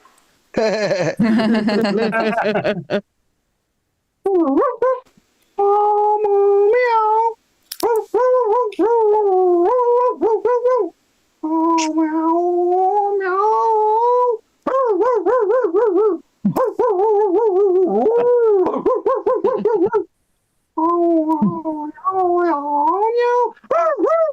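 Stand-up comedian vocally imitating a dog howling, barking and yowling at a cat, a long loud run of wavering howls and yelps in short bursts with brief pauses.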